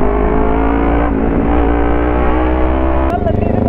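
A Kawasaki Ninja 300 engine idles and revs with a deep, steady rumble, close by and loud, with a brief pop near the end.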